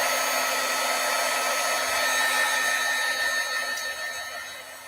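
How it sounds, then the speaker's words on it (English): A craft heat tool blows steadily to dry distress ink on a stamping project, a loud, even whir with a constant hum that runs for about five seconds and eases slightly near the end, with no talking. "Now I'm going to take my heat tool and I'm going to dry this down just a little bit."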